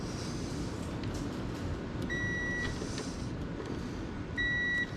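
A multimeter on continuity test sounds two short, steady high beeps, each about half a second, over a low rumbling background while parts of a Cummins generator are checked.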